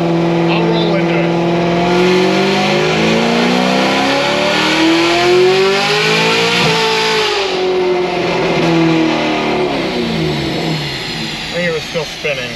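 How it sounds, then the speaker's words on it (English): A Cadillac CTS-V accelerates hard with its tires spinning, the engine roaring loud and close as revs climb and fall through gear changes, rising again before easing off near the end. "Still spinning."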